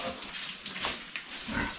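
Pigs on a pig farm grunt and squeal in short overlapping bursts, fairly close, over a steady noisy pen background.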